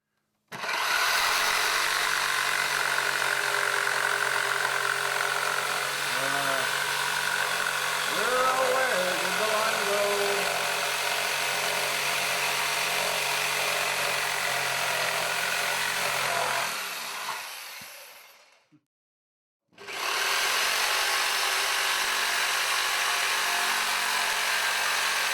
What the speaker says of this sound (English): make a rip on this 2-inch piece of hemlock